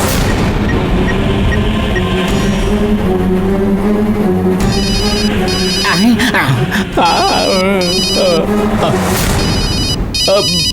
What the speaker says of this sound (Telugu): ఇదే మోగి మోగి చివరికి అదే కట్ అయిపోద్దండి